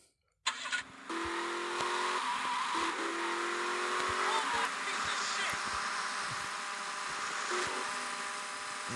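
A car engine in GTA Vice City starts with a sharp burst and then settles into a steady buzzing drone for several seconds, faint overall and with no talk over it.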